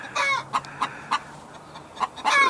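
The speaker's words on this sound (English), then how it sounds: "Hello chickens, what are you on about, you chickens?" Chickens cluck in short, separate bursts with quiet gaps between, fairly close by, with no talking.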